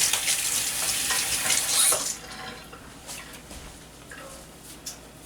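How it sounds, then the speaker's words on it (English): Tap water runs over hands at a kitchen sink while making naan, a steady hiss for about two seconds, then quieter drips and splashes. "I'm going to give my hands a little rinse real quick."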